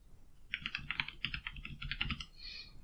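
Quick, light keystrokes on a computer keyboard, typed in short irregular runs at close range, fairly quiet and with no talking over them.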